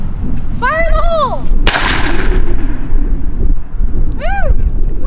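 A single sharp, loud firearm shot rings out and decays over a couple of seconds, preceded by a shouted warning and followed by a vocal cheer, all close by outdoors.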